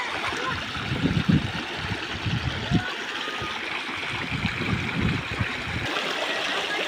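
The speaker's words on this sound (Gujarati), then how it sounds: "અને મિત્રો અહીંથી કેટલું પાણી જાય છે," Floodwater after heavy rain rushes past nearby in a steady, loud, churning wash that carries on without a break.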